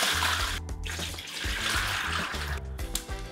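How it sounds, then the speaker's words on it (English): Water pours steadily into a container for cast iron restoration, a continuous close splashing gush with brief interruptions. "So I'm gonna get some water."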